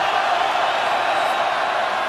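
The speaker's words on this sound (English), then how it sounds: "crowd that was silent a moment ago when the Huskies had the football," Stadium crowd at an Arizona State vs Washington college football game, a steady, dense roar of many voices filling the space without letup, loud and continuous with no distinct single voices standing out.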